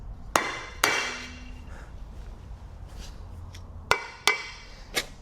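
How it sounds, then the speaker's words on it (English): Brass hammer striking a Hyundai Kona gearbox end plate with a failed bearing: five sharp metallic thunks close by, two early, then three more in quick succession, with quiet gaps between. "We'll take my brass hammer and we'll kind of give this a good thunk on here and see if this separates."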